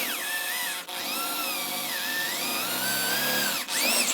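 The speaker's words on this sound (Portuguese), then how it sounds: "Tô fazendo um furo com uma broca 3/8." A power drill bores a hole with a 3/8 bit into metal clamped in a small vise, a steady whining drone with pitch wobbling under load and two brief dips where the trigger eases, close and loud with no talk.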